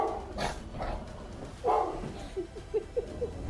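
Several dogs bark and yip in short bursts at a stuffed lion, with a few quick higher yelps near the end, fairly close and moderately loud.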